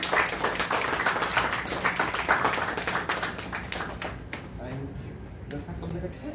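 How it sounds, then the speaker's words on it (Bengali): An audience at a cultural group's event in the Jibanananda hall at Nandan claps in a dense, steady burst of applause that fades after about four seconds, with a voice speaking over it. "একটু জোরে করতালি চেয়ে নিচ্ছি"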